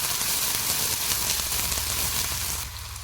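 Onion pieces sizzling in hot oil during tempering for a capsicum peanut fry, a dense continuous close sizzle that drops in level near the end, no voices.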